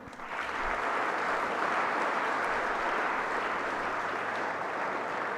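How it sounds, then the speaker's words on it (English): Loud, sustained applause from an audience filling a lecture hall, a dense even roar of clapping that holds steady from start to finish with no voices over it. "Please give a loud applause."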